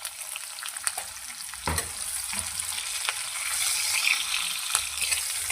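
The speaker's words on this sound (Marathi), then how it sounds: "थोडा तांबूस रंगावर भाजून घ्यायचा कांदा." Chopped onion fries in a pan toward light brown, a continuous bright hiss and crackle, close and steady, with a few spatula scrapes and taps against the pan.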